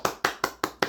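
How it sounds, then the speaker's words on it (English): Five sharp hand claps land in an even, quick rhythm, close and loud, with nothing else around them. "I get some claps in there for y'all"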